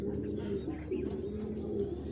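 Racing pigeons of Koopman bloodline, a hen among them, coo in low, repeated throaty pulses that run steadily throughout at moderate loudness, with faint chirps above.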